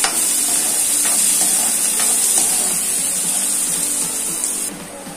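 Onions frying in a pan over a medium flame for masala chana dal, a loud steady hissing sizzle with a few stirring scrapes, close up, easing off slightly near the end, no speech.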